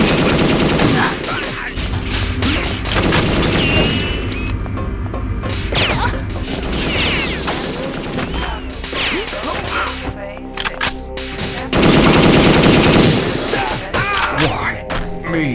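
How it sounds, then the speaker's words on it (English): Gunfire in the Nintendo 64 shooter Perfect Dark, played in co-operative mode: bursts of loud, close shots with thuds and crashes run throughout, mixed with game sound and occasional talk. "Gun."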